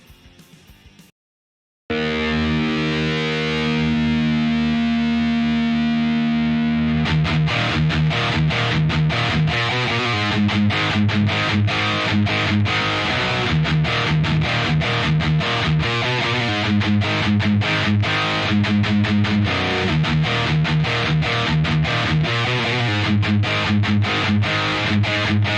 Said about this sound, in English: I'm gonna bring out my guitar, and then I'll play it for you guys so you can hear it